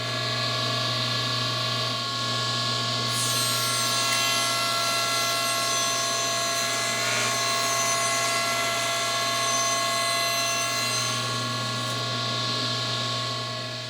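Power tool cutting a bevel along a wooden console table part, a loud sustained whine with a strong steady pitch and faint rise and fall in intensity, close and continuous without talk.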